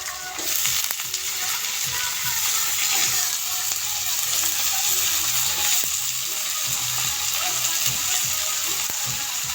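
Pumpkin pieces dropped into a pan of browned onions frying in oil, giving a steady, close sizzle with occasional clicks and scrapes of stirring throughout.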